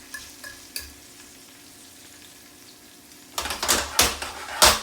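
Garlic sizzling in a skillet over moderate heat for tagliolini aglio olio with artichokes: a quiet, low crackle at first, then loud close scraping strokes as it is stirred around the pan.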